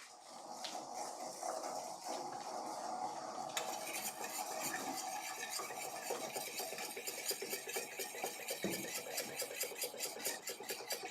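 A utensil stirs a melted suppository mass in a container, giving steady close scraping and clinking against the vessel with a faint background hum.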